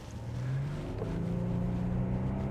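Audi Q7 with the 3-litre V6 engine pulling under acceleration, a steady low engine drone heard from inside the cabin, continuous and moderately loud.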